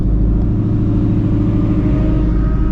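A supercharged Ford Mustang GT350 running race fuel makes a hard second-gear pull, a loud, close, continuous engine roar with a deep rumble that stays steady throughout.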